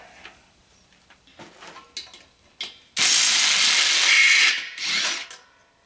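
A hand ratchet works a screw loose on a scrap air compressor in a workshop, with scattered short clicks at first and then a loud, steady burst of rapid ratcheting that runs for about two seconds, close to the mic.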